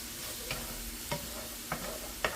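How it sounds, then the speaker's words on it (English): Onions browning in a skillet give a soft, steady sizzle with four brief scrape-like stirs spaced evenly across it, fairly quiet and with no voices. "And just brown you up some onions"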